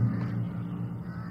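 Crows caw faintly in the eerie outdoor soundscape of the video game Alan Wake Remastered, as a brief, muffled call over a low rumbling ambient bed.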